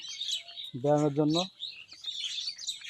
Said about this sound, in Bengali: দেখেন গ্রাম্য পরিবেশ পাখির কিচিরমিচির শব্দ